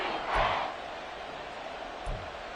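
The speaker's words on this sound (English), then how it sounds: "The Arrowhead crowd in full roar." Video-game crowd noise from the Arrowhead stadium crowd in Madden, late in a football game, a steady broad roar with two brief swells, fairly distant and even.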